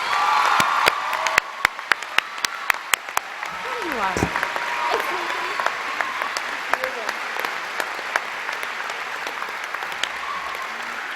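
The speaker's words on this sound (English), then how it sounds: "Please join me in welcoming Emily with a round of applause." Audience applause at a college commencement ceremony opens with sharp, distinct claps and settles into a steady, moderate wash of clapping from the crowd, with some voices murmuring in the hall.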